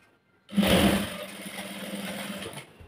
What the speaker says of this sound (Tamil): ஒரு 1/2 இன்ச்சுக்கு ஸ்டிச் பண்ணிக்கணும்.